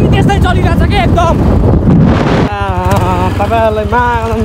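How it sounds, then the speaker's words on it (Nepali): Strong wind buffets the microphone on a hilltop, a loud rumbling roar that continues as a person talks over it. "हावा नि त्यस्तै चलिरहेछ कि एकदम"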